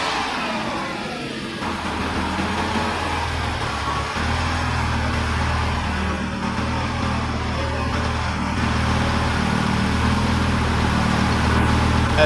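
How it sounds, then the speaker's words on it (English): Restored Lamborghini Gallardo engine running steadily, a loud, continuous mid-pitched hum with slight rises in level, heard close and alone. "As you can see, the car is actually running good. It also sounds good."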